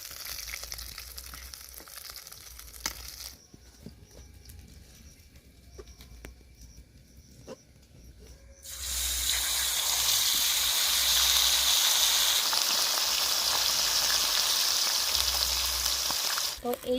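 Chicken chaap pieces frying in oil, Kolkata restaurant style: a steady, loud hiss and crackle of sizzling fat fills the second half, after a quieter stretch of faint background noise and soft kitchen sounds.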